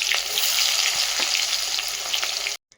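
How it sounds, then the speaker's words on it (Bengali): Onions fry in hot oil in a pan, giving a loud, steady close sizzle with occasional stirring scrapes, ending abruptly in silence. "পেঁয়াজটা লাল লাল করে ভাজা হয়ে গেলে এবার টমেটোগুলো দিয়ে দেবো"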